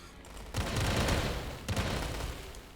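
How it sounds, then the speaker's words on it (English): Mortar and cannon fire in a World War II strategy video game makes a dense, rumbling barrage of booms and blasts that swells and sustains at moderate loudness, with no talk. "He's sending the mortars all the way over there."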